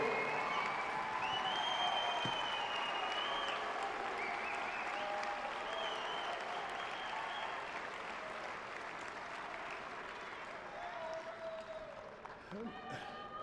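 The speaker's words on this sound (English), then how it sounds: "give them a big round of applause for getting to this point" Sustained crowd applause and cheering at a fall university commencement ceremony, dense and steady throughout, tapering slightly near the end, with a voice audible beneath the clapping.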